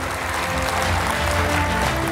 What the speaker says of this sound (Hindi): तो एक बार जोरदार तालियां हमारे विद्यालय प्रबंधन व होनहार छात्रों के लिए।